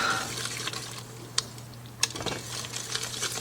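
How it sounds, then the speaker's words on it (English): A whisk stirring pectin and sugar into blackberry jam in a bowl: faint, quick clicking and light scraping with a couple of sharper taps against the bowl. "So I'm supposed to stir vigorously. I'm vigorously stirring."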